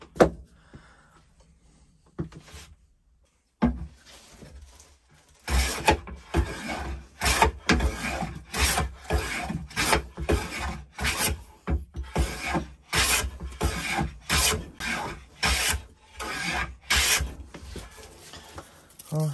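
A Record No 5 1/2 jack plane takes shavings off ash wood in a run of rhythmic rasping strokes, close and fairly loud, after a few sparse opening sounds.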